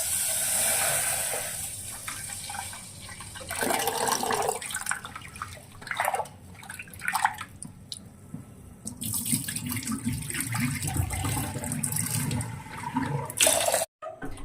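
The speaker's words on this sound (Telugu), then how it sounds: "పెసరపప్పు అనేది మంచిగా 3 times కడిగేసుకున్నాను." Moong dal is rinsed under a kitchen tap, the running water rushing and splashing steadily for a long stretch, with sloshing and stirring surges and brief pauses in the flow, close and fairly loud, no talking.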